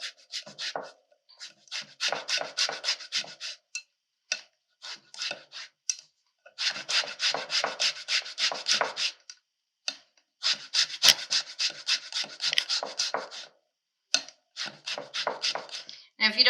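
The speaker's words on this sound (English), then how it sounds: "This is my zester. I'm just going to zest directly in." A handheld zester scrapes across orange peel as zest goes straight into a cookie mixture, making quiet, close, raspy strokes in quick bursts separated by short pauses.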